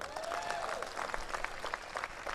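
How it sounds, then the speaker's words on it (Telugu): An audience claps for association leaders at a university annual event, producing a short, dense burst of steady applause with a faint tonal whine underneath. "మొత్తం మీ అసోసియేషన్ మొత్తం A to Z బ్రహ్మాండంగా వాళ్ళకి చప్పట్లు కొడదాం ఒకసారి"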